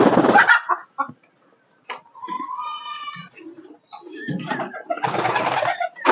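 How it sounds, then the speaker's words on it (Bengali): Fantail pigeons coo in a loft, several calls spread across the clip with clucking fowl-like notes mixed in, close and fairly loud, with a man's call briefly heard. "এই যে আমার পেখম পায়রা"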